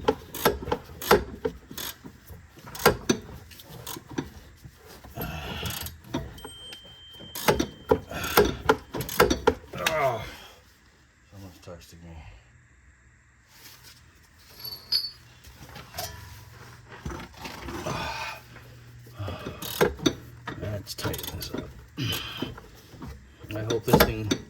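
A ratchet clicks in rapid, close bursts while tightening the rear shock bolts on a 2017 Toyota Prius Prime, with pauses between runs and some low talk in between.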